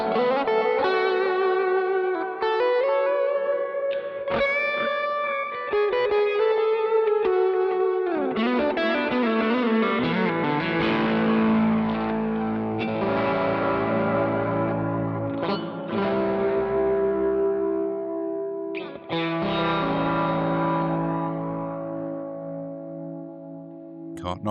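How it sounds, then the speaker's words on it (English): Electric guitar played through a Line 6 Helix Stadium with reverb and delay, sustained notes and chords ringing out with long echoing tails and shimmering decay, alone. "And I've just changed the reverb on this one now. So we've left the delay on"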